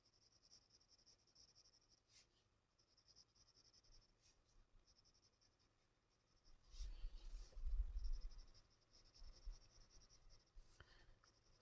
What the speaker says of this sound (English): Slowly add graphite